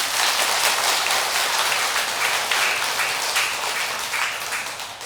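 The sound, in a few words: audience applause at a Buddhist dharma assembly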